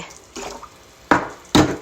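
Water poured into a pot of rice for cooking, heard as two short, close splashing pours after a softer earlier rustle, with no talk.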